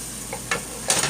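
Stew ingredients sear and get stirred in a pot, with a few brief scraping stirs and a soft sizzle, close and fairly quiet.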